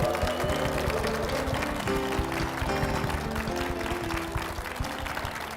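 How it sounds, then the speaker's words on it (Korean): A church congregation claps steadily for its senior pastor during a worship service, the dense applause continuing throughout with tonal music sounding underneath. "담임 목사님과 교회를 위해서 힘찬 박수 부탁드리겠습니다"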